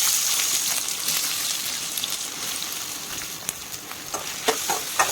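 Ivy gourd pieces frying in hot oil for an onion-chilli stir-fry, a steady dense sizzle with occasional crackles and pops, close and fairly loud, with no voices.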